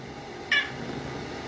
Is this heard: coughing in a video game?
no